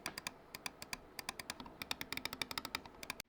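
Titan optical switches on a gaming mouse click rapidly and repeatedly, a steady run of sharp, light clicks close to the microphone with no voices.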